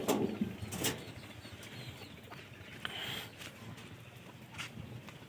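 Pigeons shuffle and flap inside a pigeon house, with scattered wing flutters and soft movement noises over a low, steady background; no clear cooing stands out.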